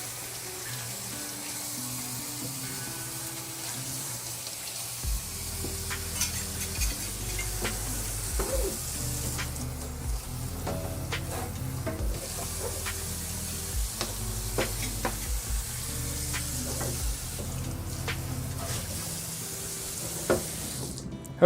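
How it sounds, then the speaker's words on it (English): A kitchen sink tap runs steadily while knives and a cutting board are washed, a continuous near rush of water with clinks and scrapes of utensils throughout. "Hopefully the sound of running water is a nice relaxing sound."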